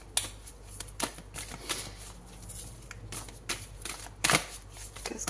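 Tarot cards shuffled and drawn during a Taurus horoscope reading: soft, papery riffles and flicks in a steady, close, quiet patter, with several sharper card snaps and no talking.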